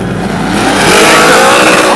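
Drag race street car launching hard down the racetrack, a loud sustained roaring rev building over two seconds with no talk.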